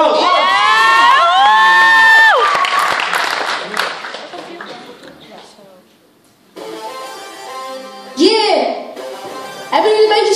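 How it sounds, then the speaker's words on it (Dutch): A crowd of children cheers, whoops and applauds a performer on stage, loud shrieks and clapping at first that fade to quiet, then a host speaks and the crowd bursts out again. "Geef hem een applaus."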